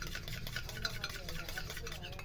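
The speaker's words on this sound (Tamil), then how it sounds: "இதை நல்லா மிக்ஸ் பண்ணினா" Castor oil cream and aloe vera gel are mixed in a small container, giving a soft, quick, continuous squelching and scraping close by.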